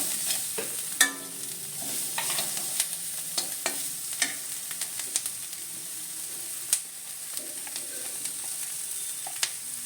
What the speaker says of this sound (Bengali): লাল লঙ্কা গুঁড়া, যাতে পুড়ে না যায়, নাড়াচাড়ার মধ্যে রাখতে হবে।